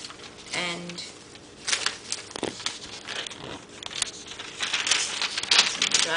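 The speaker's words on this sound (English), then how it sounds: "crumple them together." Dry newspaper sheets crumpled together by hand, with irregular crinkling and crackling bursts close to the mic, mixed with some speech.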